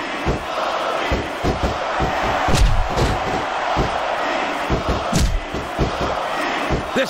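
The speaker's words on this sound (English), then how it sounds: "This capacity crowd is solidly behind their superstar." A capacity crowd at a WWE women's wrestling match roars steadily, with chanting swells and thuds from the ring cutting through the continuous arena din.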